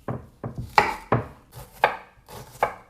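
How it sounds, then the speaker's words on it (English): A knife dices a yellow onion on a cutting board in a run of distinct, close chops, about eight crisp strikes in an uneven rhythm, with no talking. "We need to dice up a yellow onion"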